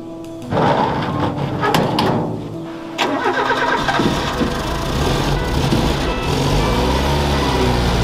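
A Renault 4L with a competition-prepared engine and 91,000 km fires up on a lift, cranking briefly before catching, then revving and settling into a loud, close, steady idle.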